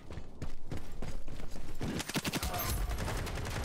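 Fast automatic gunfire from a Black Gold Honey Badger rifle in the online shooter Ironsight, dense rattling bursts that run almost without pause, loud and close amid in-game noise.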